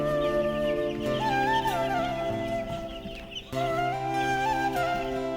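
Broiler chickens on a farm that have caught a cold, clucking and chirping steadily nearby in overlapping calls, with no talk.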